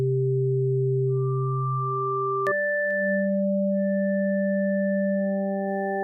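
Sustained synth pad from an Access Virus TI with a second oscillator tuned seven semitones up. It plays as smooth, steady held tones, then shifts partway through to a higher chord with a brighter overtone layered above. No voices are heard.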